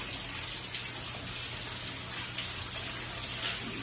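Hot water runs steadily from a tap fed by a water treatment system, a constant rushing hiss, moderately close, with no voices over it.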